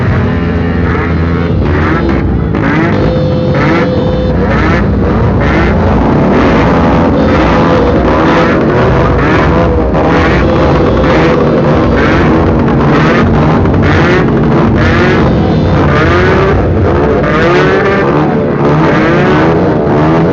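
Motorcycle engines at an Independence Day bike rally in Bhadravati, loud and continuous, with several bikes droning and revving close by in dense overlapping waves.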